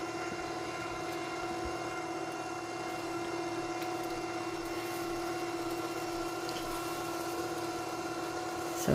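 The motor of a Litter Robot 3 litter box runs its cycle with a faint, steady mechanical hum and whir, continuous and even, with no skips or knocks.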